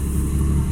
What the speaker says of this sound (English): it's sputtering because its engine thinks, or the computer thinks that it's running on half the size of the injectors